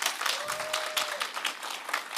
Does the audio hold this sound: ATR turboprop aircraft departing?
no